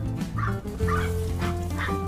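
A dog keeps barking and yipping in short, whiny bursts, roughly four in a row, fairly close by in a gardener couple's yard.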